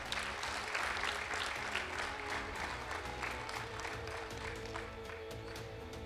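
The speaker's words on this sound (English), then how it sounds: "Please give him a big round of applause." An audience at an IIM Bangalore event applauds a team member with dense, sustained clapping from a crowd that holds steady throughout, with faint voices underneath.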